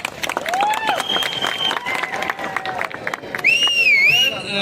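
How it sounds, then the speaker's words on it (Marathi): Dense applause and cheering from a crowd at a fan meetup in Kolhapur, steady and loud throughout, with shrill whistles rising above the clapping. "एकदा जोरदार टाळ्या होऊन जाऊ दे"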